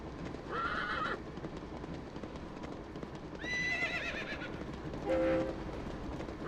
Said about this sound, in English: Keep going, horsey.